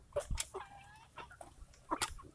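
Red Ranger broiler chickens, nearly two months old, give soft, scattered clucks and short murmuring calls close by, with brief pauses between bursts.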